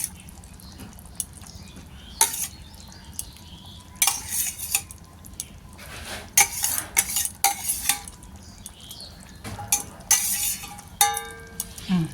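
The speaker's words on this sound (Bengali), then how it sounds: "এবারে আমি এক এক করে বেগুন দিয়ে দেবো" Raw eggplant pieces for sesame eggplant (til begun) dropped one at a time into hot oil in a pan, each landing as a sharp sizzling burst with light utensil clinks between, spaced every second or two.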